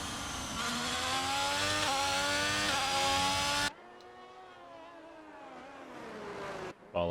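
Race cars in a Formula-style racing video game pull out of the pits at the Portugal circuit, a loud layered whine of several engines for about four seconds before cutting to a quieter single engine tone.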